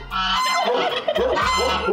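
Guard turkeys roaming the ruins of an old castle park give loud, close, rapid gobbling calls that continue almost without a break.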